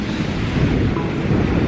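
Ocean surf rolls onto a Lombok beach in a steady, close roar that is mixed with wind buffeting the microphone, and no voices are heard.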